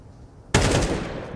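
Rapid automatic gunfire bursts from a Counter-Strike 2 match, erupting suddenly after a quiet moment and sounding as a loud, continuous rattle of shots.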